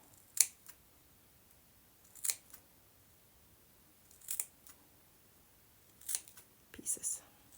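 Scissors snip through fabric pieces for handmade textile flowers, five or six short crisp cuts spaced a second or two apart, close and quiet against a near-silent room.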